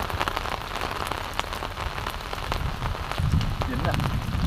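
Heavy rain pours down at a fishing spot, a dense, loud patter striking surfaces all around with scattered louder drops. Someone talks under it toward the end.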